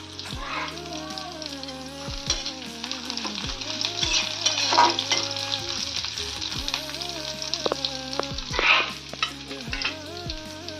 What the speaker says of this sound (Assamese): এয়া মই পিঁয়াজখিনি ভাজি আছোঁ